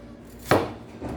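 A single sharp knife chop through onion on a cutting board, crisp and close, followed by a softer second cut a moment later, with no voices.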